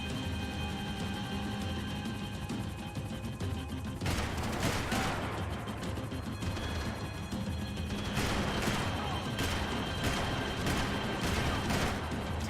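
Gunfire in the video game Max Payne 3: dense bursts of rapid shots with crashes and impacts over a steady background of game music and noise, loud and continuous.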